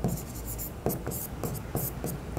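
Handwriting on paper during an accounting lesson, a close series of soft scratching pen strokes with brief pauses, fairly quiet and heard without talk.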